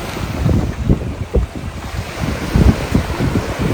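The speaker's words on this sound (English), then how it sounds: "This is Caribbean Sea. So beautiful today." Caribbean Sea waves at a beach in Cancun wash and roll in close by, with heavy wind buffeting the microphone in uneven low gusts and surges throughout.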